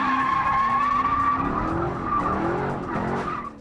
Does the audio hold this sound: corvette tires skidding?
yes